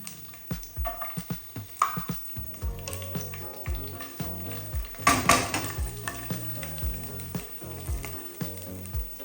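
Garlic sizzling loudly in olive oil in a pan, a dense crackling fry punctuated by regular spoon or spatula scrapes and taps, with one sharp louder burst midway and no voices.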